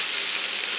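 Pad thai stir-frying in hot oil in a pan, giving a loud, steady, close hiss of sizzling with no pauses and no voices.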